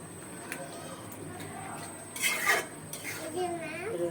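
Fish is mixed in a cooking pot with a few metal scrapes and clinks of a spoon, faint under a voice talking nearby.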